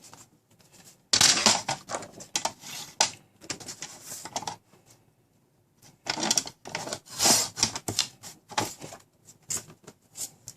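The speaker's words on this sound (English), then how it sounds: "I'm going to cut them down to 2 different long strips." Scissors cutting patterned paper into long strips for a handmade Christmas card, giving bursts of crisp snipping and paper rustle in two main stretches with quiet pauses between, close to the microphone and with no talk.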